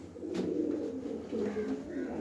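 Pigeons coo softly in a loft lined with wooden slats, low rolling calls repeating under nearby talk and background noise.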